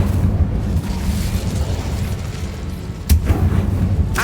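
Incendio fire spell cast in the Hogwarts Legacy video game, a roaring whoosh of flames over a deep rumbling bed with a sharp burst near the end, loud and close.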